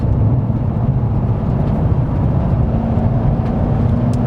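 A 2018 BMW M5 F90 engine roars steadily at high speed, around 150 to 170 km/h, a dense continuous drone with road and wind rumble, loud and close, no talking.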